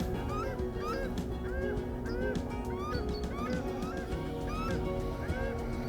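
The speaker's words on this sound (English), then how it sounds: "past these very noisy paradise ducks I can hear off in the distance" Paradise shelducks call repeatedly from across a lake at Silverstream, Upper Hutt, New Zealand, a series of distant honking cries in uneven bursts over steady outdoor background noise.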